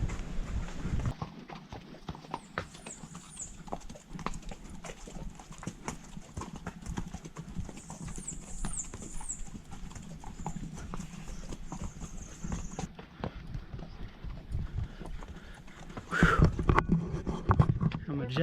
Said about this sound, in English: Riding a horse through the rainforest.